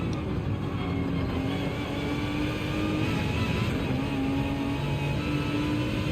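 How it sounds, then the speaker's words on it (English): Jaguar race car engine in Gran Turismo 7 at Road Atlanta, a continuous engine whine that rises and drops in pitch as the car shifts through gears, steady and fairly loud with no talking. "Plus, the Jag sounds lovely indeed"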